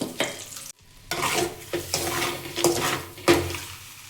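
Eggs seasoned with chili powder and salt sizzle as they fry in a pan, with repeated spatula scrapes and stirring strokes close by, briefly pausing once.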